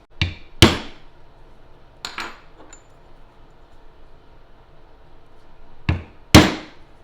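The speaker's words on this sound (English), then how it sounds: "I'm going to bevel out this little floral design with just the Brooks bevelers" Metal Brooks bevelers struck with a mallet while beveling a small floral design into leather, a few sharp isolated taps spaced apart, some in quick pairs, close and clear over a quiet room.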